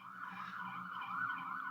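An emergency vehicle siren passes outside, a faint wailing tone rising and falling steadily from a distance with no voices over it.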